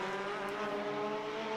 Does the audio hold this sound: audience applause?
no